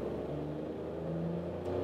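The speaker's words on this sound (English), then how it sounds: "And let's give it some acceleration. In the first gear, you really have to push the throttle that the car comes and does something." A Seat Mii small car's engine accelerates in first gear with the throttle pushed hard, giving a steady moderate hum and rising drone that builds slightly near the end, heard alone without speech.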